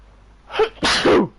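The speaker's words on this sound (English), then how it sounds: "Sneeze" A single close, sharp sneeze: a quick indrawn breath followed by a loud, explosive burst, with quiet before it.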